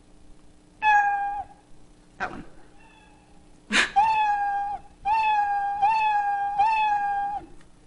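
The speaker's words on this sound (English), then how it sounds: "play the sound meow." A cartoon cat meow sound effect plays from a Scratch program, several bright, clear meows in a row with short gaps, one a bit louder, and a brief spoken remark between them.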